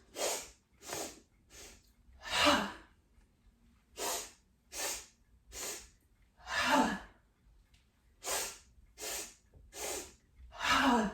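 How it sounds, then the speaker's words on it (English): Deep yoga breaths in a flow practice: a series of loud, airy inhales and forceful exhales through the mouth, each a separate whoosh with short pauses between, close to the microphone and with no talking. "3-part inhale, complete exhale through the mouth"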